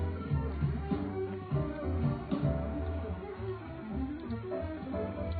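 Saxophone heard only through a sidechain effects rack, distorted and heavily processed so it resembles an effected electric guitar, playing a continuous, dense, sustained phrase at moderate level with no talking.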